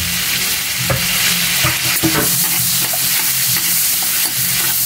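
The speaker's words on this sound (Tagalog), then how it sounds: "Ilagay natin yung sibuyas natin." Onions sizzle in a pan for a simple bottle gourd dish, loud and continuous, with repeated scraping stirs and utensil knocks close by.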